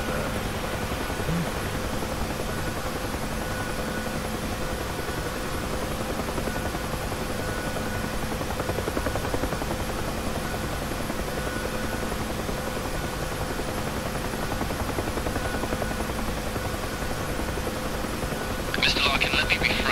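A Huey helicopter taking off in the DCS flight simulator, a loud, steady rotor and turbine roar that stays constant throughout with a slight surge near the end.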